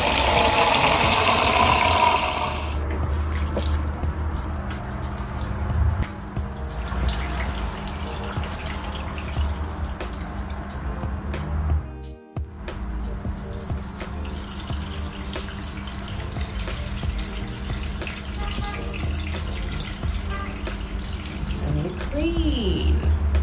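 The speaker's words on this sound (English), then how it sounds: "So we're now going to flush this pond and get all the dirt out." Water from a tap runs steadily into a self-watering planter pot to flush the dirt out, a continuous close splashing and pouring with a brief break partway through, and a voice speaks faintly beneath it.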